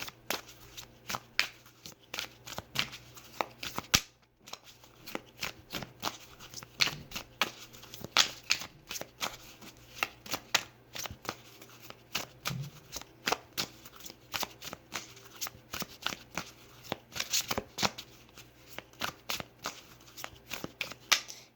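Tarot deck being shuffled by hand, a long run of quick riffling and flicking card sounds in uneven bursts, close and fairly quiet, with no voice over it.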